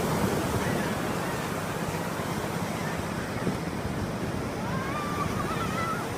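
Sea waves wash onto a beach at Amornphan in Rayong, Thailand, early in the morning: a steady, broad surf rush close by, with a soft wind-like hiss and no one speaking.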